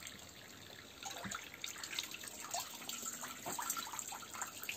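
Water runs from a tap over a beeswax comb foundation sheet being rinsed after pressing, a soft continuous splashing that swells slightly after the first second and stays fairly faint throughout.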